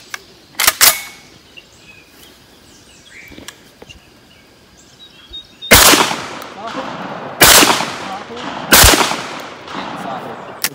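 Citadel Warthog pistol fired at an outdoor range: a quick pair of shots early, then three loud, echoing reports spaced about 1.5 seconds apart, close by with faint background noise.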